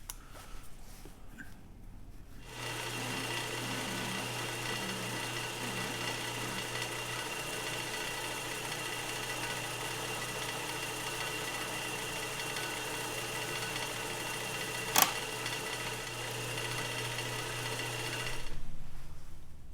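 A steady mechanical whir from a Craftsman 109 mini lathe drilling runs for most of the stretch, a constant low hum with one sharp click partway through as the drill bit breaks, then stops.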